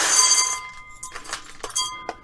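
Old glass jar clinking and tapping as an orchid is freed from it, a bright ringing clink at first followed by several short separate clinks, close and alone.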